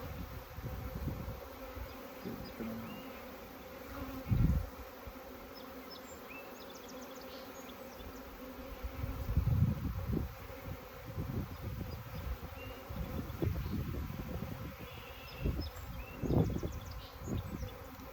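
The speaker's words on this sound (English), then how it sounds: "When I fill that feeder up, there's a couple bees in there." Several bees buzz around a feeder in a steady, fairly quiet drone, with louder swells as individual insects pass close, plus faint outdoor rustling.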